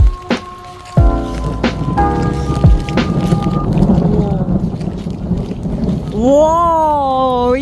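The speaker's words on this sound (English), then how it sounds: "umuulan." Steady broadband wash of cold rain falling outdoors, with wind buffeting the microphone and a few sharp knocks; a rising and falling warbling tone enters near the end over the rain.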